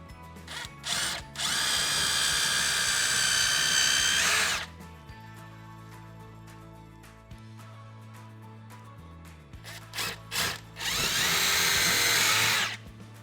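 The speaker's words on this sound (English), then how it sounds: "grab your 3mm drill bit and pre-drill some pilot holes" A Ryobi power drill with a 3mm bit pre-drilling pilot holes whirs loudly in two long bursts with short trigger blips between, separated by a quieter stretch of low hum.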